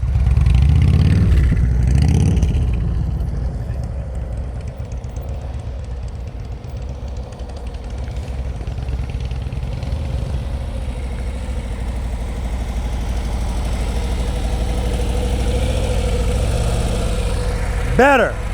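A motorcycle engine runs at low speed during slow-speed riding practice in Pennsylvania, a steady mid-pitched idle with a louder rev at the start and a brief rising whine at the end.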